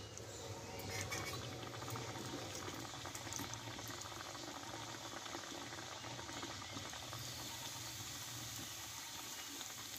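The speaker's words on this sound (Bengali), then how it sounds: "দেখো তেলটা কিন্তু ফুটতে লেগেছে, এবার লুচিগুলো আমি ভেজে নেব" Luchi, deep-fried puris of dough made with sweet pumpkin, bubbling in hot oil: a steady, close, dense boiling crackle that runs unbroken for the whole stretch with no talk.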